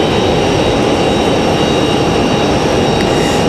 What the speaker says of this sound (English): Republic Airways at 5626 coming from Boston. This E175.